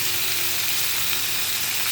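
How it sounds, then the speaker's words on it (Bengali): Vegetables frying in a pan, a steady dense sizzle that holds evenly and fairly loud throughout with no talk. "তো একটু সবজিটা একটু ভেজে নেবো।"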